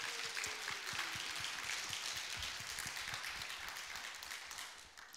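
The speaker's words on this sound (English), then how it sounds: "Would you give them a round of applause and acknowledge them this morning?" Church congregation applauding during a Sunday morning service, a sustained wash of many hands clapping that fills the room and tapers slightly toward the end, with no speech.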